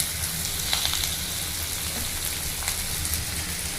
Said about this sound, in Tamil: இது கூடவே கொஞ்சம் கருவேப்பிலை போட்டு வதக்கிக்கலாங்க.